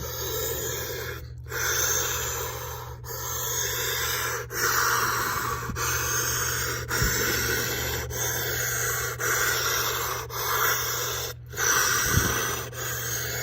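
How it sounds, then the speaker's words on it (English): Deep, steady breathing of a person sitting in a homemade cold plunge, with repeated rushing inhale and exhale cycles under a constant low hum, close and fairly loud throughout. "So I'm gonna do some deep breathing."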